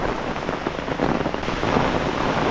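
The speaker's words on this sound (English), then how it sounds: "Holy moly, it's heavy rain." Heavy rain pours down in a storm on a trail near Harpers Ferry, a dense, loud, close roar of drops hammering the ground without pause.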